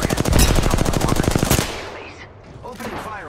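Video game gunfire: a loud, fast automatic burst of evenly spaced shots lasting about a second and a half, then fading into softer game effects.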